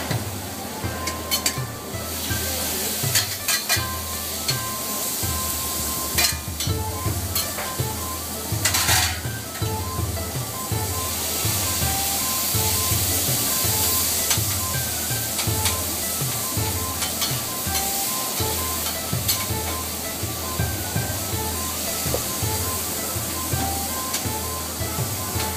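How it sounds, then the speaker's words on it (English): Food frying on a griddle at a U Grill restaurant, a continuous sizzle with frequent clanks and scrapes of metal utensils and pans, busy and close throughout. "it gets put on the grill, because they call it U Grill after all, and they fry it up for you."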